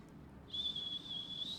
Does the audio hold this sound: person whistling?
yes